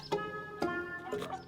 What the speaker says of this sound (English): We got a chicken